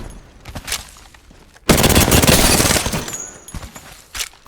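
Gunfire in Apex Legends, played with aim-assist controller settings: a sharp, loud burst of automatic fire lasting over a second, with scattered quieter single shots before and after.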